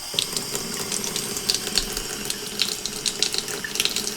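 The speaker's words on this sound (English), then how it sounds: "Let the water run a little bit" Water runs steadily from a kitchen faucet into a sink, a continuous close hiss and splash lasting throughout with no voices.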